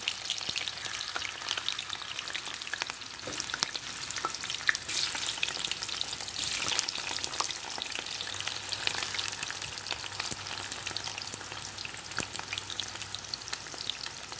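Bitter gourds (karela) rubbed with salt crackle and sizzle in hot oil, a dense, steady spitting like rain that keeps going for the whole stretch, and no one talks.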